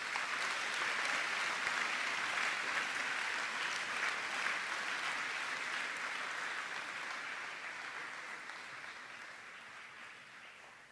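An audience at a senior awards ceremony claps for student award recipients, steady sustained applause that holds for several seconds and then slowly thins and fades toward the end.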